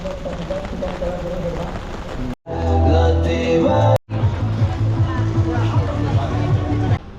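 Heavy, cold rain pours steadily during a mid-distance running race, a dense hiss that fills the whole stretch, broken once by a short gap and joined by low rumbling noise.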